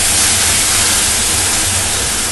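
Onion paste dropped into a little hot oil in a kadai hisses and sizzles loudly at close range, a harsh continuous spitting that stays strong throughout the short burst.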